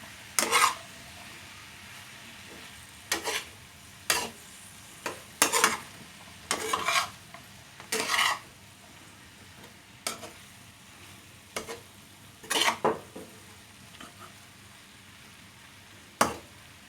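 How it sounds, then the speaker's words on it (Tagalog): Vegetables and fried chicken liver for pancit bihon are stirred in a pan, giving sparse, irregular scrapes and clanks of the spoon over a faint frying sizzle, with no talking. "Haluin ko lang."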